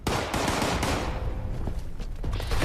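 Rapid bursts of gunfire in Fallout 76, with shots fired at the player from close range, a dense, continuous volley of cracks and thuds lasting the whole stretch.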